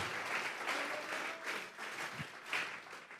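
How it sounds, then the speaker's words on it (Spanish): A church congregation applauds together in sustained, dense clapping that swells and eases in waves, fairly distant and with no speech over it. "Vamos a regalarle ofrenda de palmas al Dios de la gloria"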